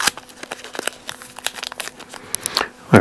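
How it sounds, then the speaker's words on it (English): An end of tape is folded over during stripping and repair work on a boat's port toerail, with close crinkling and crackling that continues for a few seconds, with no talk over it. "Fold over the end of the tape so that I can try to find it again"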